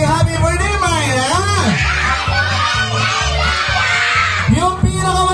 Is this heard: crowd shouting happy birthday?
yes